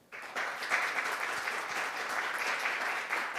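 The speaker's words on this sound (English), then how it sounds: "please give them a big round of applause" Applause for a conference panel fills the space right after a moderator's request, a steady dense round of clapping from an audience that starts abruptly and holds evenly to the end.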